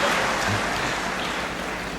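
Steady crowd applause at a university graduation ceremony, a dense continuous patter of many hands clapping that holds evenly for the whole stretch and fades only slightly toward the end.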